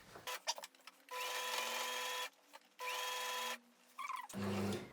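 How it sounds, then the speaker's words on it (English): Sewing machine stitching a half-inch seam around a curved edge of fabric, running in two steady motor bursts of about a second each with brief pauses and handling clicks between them. "it's a curved edge that you've got to sew"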